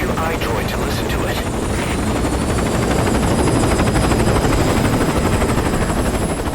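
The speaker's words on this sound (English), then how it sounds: "Somehow, a whole helicopter doesn't just raise the alarm on this US military base." A helicopter's rotor beats loudly and continuously at a US military base in the Metal Gear video game, a close, rapid chopping thrum that fills the scene, with a voice talking over it.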